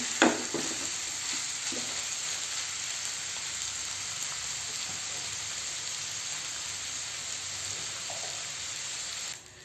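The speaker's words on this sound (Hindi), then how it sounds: "फुल फ्लेम पर थोड़ी देर पकने देंगे।" Butter garlic chicken sizzles and fries steadily over a full flame, a continuous close hiss with a few stirring scrapes near the start.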